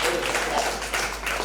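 Applause from an audience at a talent show, a brief burst of dense crowd clapping that fills the moment steadily before easing slightly.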